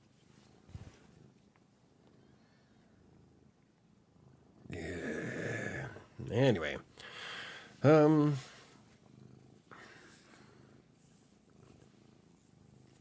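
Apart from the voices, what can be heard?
cat purring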